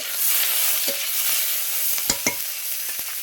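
Chopped onion and tomato frying in a wok while mustard-oil-style fried fish curry is prepared at home, a steady soft sizzle with a few louder stirring scrapes near the end, no talking.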